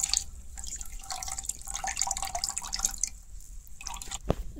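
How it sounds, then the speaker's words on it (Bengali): Water dripping and trickling off fresh chhena curd as it is squeezed by hand, a steady close patter of drops with a brief louder splash near the end, no talking. "এখন হাত দিয়ে একটু জাতা দিয়া দিয়ে এটা জলটা ফেলাই দিই"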